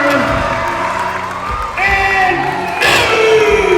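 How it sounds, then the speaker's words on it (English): A wrestling arena crowd at Plaquemine cheers wildly for a new heavyweight champion, with loud sustained roaring, whoops and shrill shouts that swell in waves, close and dense. "this crowd is going crazy here at Plaquemine"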